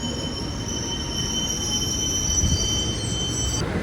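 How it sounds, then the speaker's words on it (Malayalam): Tambaram–Mangaluru Central Express passing at Coimbatore North, a steady rumble of wheels on rail with a sustained high metallic squeal, close and unbroken, no voices. "ഇത് നമ്മുടെ നാട്ടിലേക്ക് പോകുന്ന വണ്ടിയാണ്, താമ്പരം മംഗളൂരു സെൻട്രൽ എക്സ്പ്രസ്"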